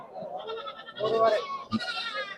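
A male goat bleats nearby at a sheep market in Chitradurga, a short wavering call heard amid people talking in the background.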